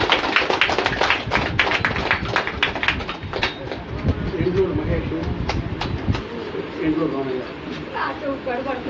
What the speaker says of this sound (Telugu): వాళ్ళందరికీ ఒకసారి చప్పట్లు భజన బృందం